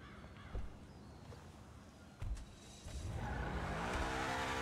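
A Mercedes Black Series car in GTA Online, with faint engine and tire noise, a couple of brief thumps, then a rising engine roar swelling louder toward the end.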